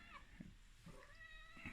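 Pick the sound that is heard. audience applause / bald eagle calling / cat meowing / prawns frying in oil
cat meowing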